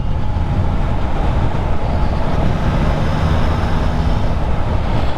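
A Triumph Trident 660 motorcycle cruising in sixth gear gives a loud, steady, unbroken rumble of engine and wind roar with no pauses.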